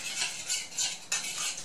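A whisk or spoon stirs in a bowl as the wet ingredients for vegan chocolate muffins are worked into flour, sugar and yeast, making a close, steady scraping and swishing in a regular rhythm.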